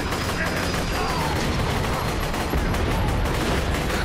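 Rapid bursts of triple-shot gunfire in Borderlands 2 crackle densely and loudly without letup, the shots blurring into a continuous barrage.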